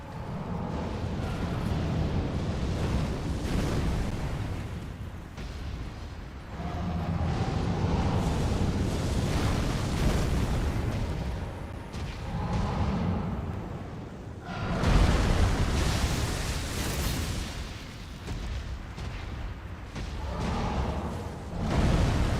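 A dragon's fire breath attack in Elden Ring roars as loud, sustained rushing blasts that swell and fade in several long waves, with booming low rumbles.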